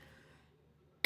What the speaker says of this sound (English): Still haven't quite gotten rid of this cough.